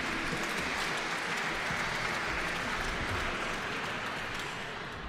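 A crowd applauds steadily, dense and continuous clapping filling the room, fading slightly toward the end.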